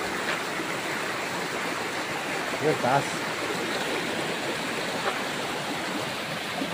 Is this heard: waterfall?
yes